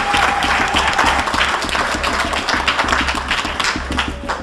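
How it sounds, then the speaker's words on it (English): Steady round of applause from diners at a high school fall sports banquet, loud and continuous with rhythmic clapping throughout. "So how about a nice round of applause for Cheryl Wolk and the kitchen staff?"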